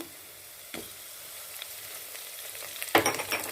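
Onions sauté in a pan for an okra tamarind curry, giving a soft steady sizzle. Two sharper bursts of stirring and crackling break in, one early and one near the end.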